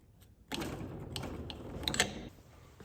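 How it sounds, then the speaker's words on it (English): Screwdriver prying a suspension part off the hub of a Mazdaspeed 6, a faint close scraping and clicking with a couple of small metallic ticks, soft and brief. "Once you get it to crack like that, it will just come off with the screwdriver."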